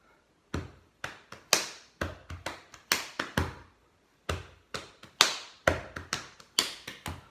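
Body percussion for a classroom song: crisp claps, pats and taps land in a rhythmic pattern, groups of sharp hits separated by a short pause, close and clear with no talking.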